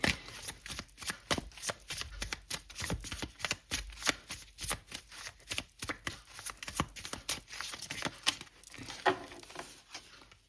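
Fresh tarot cards are shuffled in quick, crisp riffling bursts, close and fairly quiet, repeating steadily throughout with no speech.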